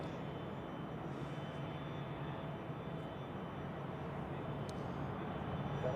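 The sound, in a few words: Swiss Airbus A220 airliner on the runway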